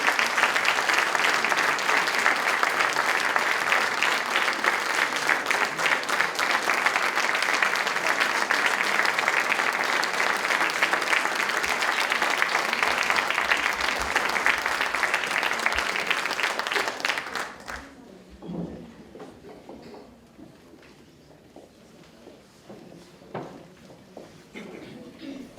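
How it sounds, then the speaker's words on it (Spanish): An audience gives loud, sustained applause for the Coral Polifónica choir and its director. The dense clapping runs for about seventeen seconds, then cuts away to a quieter room with faint murmurs and scattered small sounds. "un fortísimo aplauso para a Coral Polifónica de Filomena."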